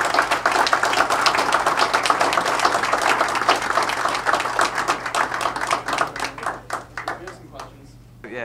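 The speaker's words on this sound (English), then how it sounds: "I'd like to have another round of applause for everyone who's here" A protest crowd at a university award event gives a round of applause, dense sustained clapping that thins into scattered individual claps and fades out near the end.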